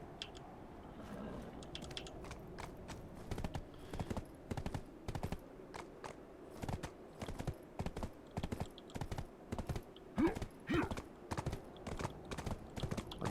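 In the video game Black Desert, a horse's hooves clip-clop in quick even beats as the horse gallops, steady and close, with no talk over them.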